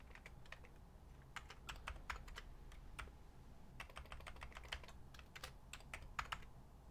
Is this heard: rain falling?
no